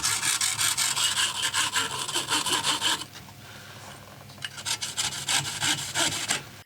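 A graphite golf shaft from a Cobra driver is sawn by hand in quick, steady rasping strokes, loud and close, pausing briefly midway before the strokes resume.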